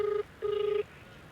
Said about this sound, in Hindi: हम बार बार फ़ोन मिला रहे हैं